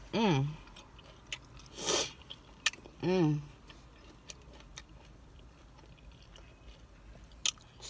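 Close, wet chewing and crunching on jalapenos and sausage, eaten in a car, with soft vocal hums between bites and small ticks against a quiet background.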